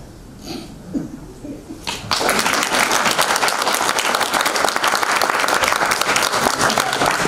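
Audience applause breaks out in a hall at a Romanian National Culture Day event in Moinești, starting abruptly after two seconds of quiet murmur and holding steady, loud and dense, to the end.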